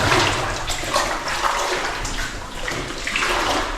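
Water pouring steadily out of an old mine gallery cut by a dolomite quarry, a loud continuous rushing splash echoing close by with no break.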